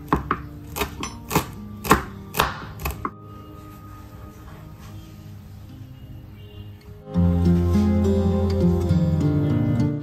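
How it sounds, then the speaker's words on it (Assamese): A kitchen knife finely chops fresh coriander leaves on a board, giving a handful of crisp, close taps in an uneven rhythm before the cutting stops and a steady hum takes over. "একেবাৰে মিহিকৈ কুটি দিম"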